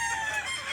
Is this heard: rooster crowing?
yes